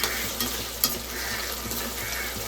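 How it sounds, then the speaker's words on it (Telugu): Prawns frying with turmeric in a pan hiss and sizzle steadily while being stirred, with faint scraping strokes and a brief clink, close and even with no speech. "కొంచెం లైట్గా పసుపు వేసుకున్నాము అడగంటకుండా ఇలా వీటిని తిప్పుతూనే ఉండాలి కలుపుతూ"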